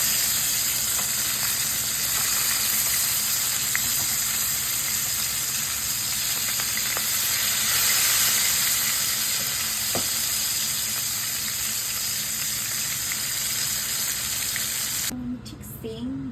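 Hilsa fish and eggplant frying in hot oil, a steady close sizzle with hissing steam running continuously and loud, a few faint stirring clicks, easing off near the end.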